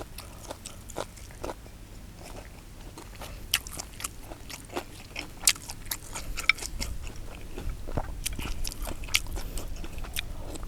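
Someone eats raw white turmeric alongside Thai chicken larb, with close, crisp crunching bites and chewing in an irregular rhythm against quiet background noise, no speech during the chewing.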